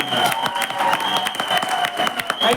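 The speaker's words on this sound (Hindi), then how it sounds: "सबसे पहले तो हमारे master of ceremony mister Ramchandra Chaudhary के लिए एक जोरदार ताली हो जाए" Audience at a director training event in Ahmedabad applauding, a continuous dense patter of many hands clapping, with scattered voices mixed into the crowd noise.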